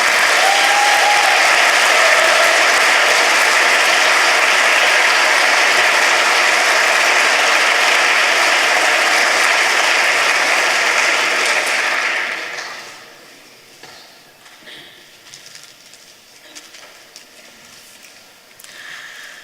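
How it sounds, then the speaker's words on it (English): Loud, dense audience applause at a European science contest prize ceremony fills the hall steadily for about twelve seconds, then drops to scattered fading claps and a quieter room. "Please give them a round of applause one more time."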